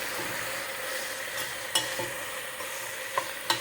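Smoked turkey wings and bones sit in a pot. A quick stir brings a few scattered scrapes and knocks over a constant, moderately loud sizzling hiss.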